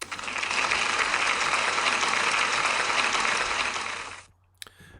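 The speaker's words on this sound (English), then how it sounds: "I think Violet deserves a big round of applause" A classroom gives a round of applause for a pupil, dense, steady clapping from many hands that holds for about four seconds and then stops abruptly, leaving near silence.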